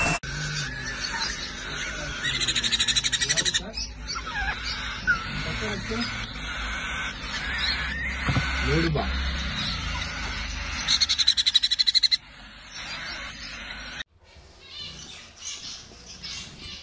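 Guinea fowl in an exotic pet and aquarium shop in Bengaluru give loud, repeated harsh calls among other bird chatter, while people talk nearby throughout.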